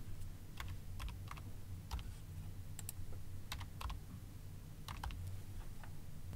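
A date range is typed on a computer keyboard, with light, irregular key clicks in short bursts over a steady low background hum, close and fairly quiet, with no talking.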